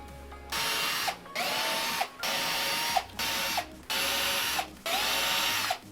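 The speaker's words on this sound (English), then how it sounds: "once all your pilot holes are drilled" A power drill whirs in six steady bursts drilling pilot holes in wood, each starting and stopping abruptly with short pauses between, loud and close.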